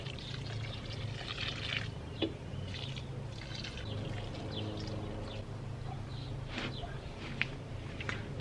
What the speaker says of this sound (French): j'ai pris mon seau ici avec l'arrosoir et je vais bien arroser tout ça